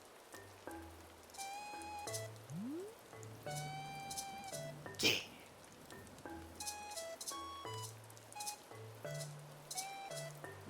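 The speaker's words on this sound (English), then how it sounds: "Shame they don't get rid of the rain." Rain falling in the video game Animal Crossing: New Horizons, a steady patter under cheerful game music with maracas shaking, a brief sharp burst midway and a voice speaking once.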